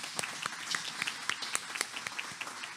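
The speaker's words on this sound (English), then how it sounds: "Let's give a big round of applause for our volunteers" Sparse, scattered handclaps from a small forum audience applauding the volunteers, faint and uneven, with individual claps standing out rather than merging into a roar.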